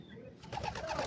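A single pigeon coos softly nearby, one brief low call that starts after a short quiet moment.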